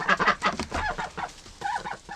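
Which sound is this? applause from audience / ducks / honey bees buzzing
ducks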